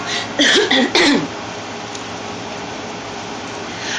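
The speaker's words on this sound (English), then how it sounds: "I got a cough. Hold on." A couple of sharp coughs near the start, close and loud, followed by a steady low hum of background noise.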